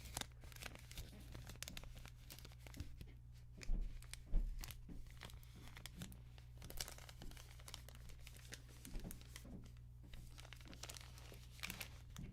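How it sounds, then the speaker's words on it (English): Plastic snack bar wrapper crinkled at a distance, a steady run of soft crackling and crunching with a few louder crumples, heard alone without talk. "Doing some crinkling over there while I'm doing a little bit of whispering over here."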